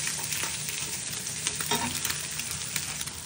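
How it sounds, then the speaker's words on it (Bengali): Eggs scrambled in a hot pan for fried rice, a steady close sizzle with soft stirring scrapes running continuously throughout, no voices. "আর ডিম স্ক্রাম্বল করে নিব ফ্রাইড রাইসের মধ্যে দেওয়ার জন্য"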